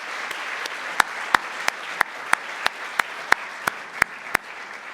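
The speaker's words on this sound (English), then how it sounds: "can we give all of our sponsors and partners a great round of applause?" Applause for the sponsors and partners at the opening of a book festival, heard as a thin patter under a run of sharp, evenly spaced claps, about a dozen over a few seconds.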